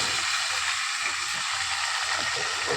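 Hot oil spluttering as fish fries in a pan for a fish curry, a steady dense hiss and crackle filling the whole stretch with no voices.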